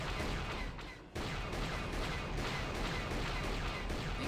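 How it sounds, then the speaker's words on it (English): Steady, dense turret gunfire in Knights of the Old Republic, a continuous loud barrage that drops out for a moment and then resumes at full strength, with no speech. "This goddamn turret. Fucking shooting them, come on."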